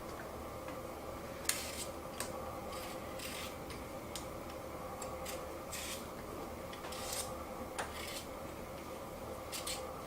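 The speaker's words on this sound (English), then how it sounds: "So what I have to do is peel 5 pounds of potatoes, which I've started." Potatoes being peeled by hand in a kitchen, five pounds of them, giving faint scraping ticks and short rasps that recur irregularly over a low room hum, with no talking.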